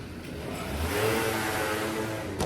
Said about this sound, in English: this little scooter thing's annoying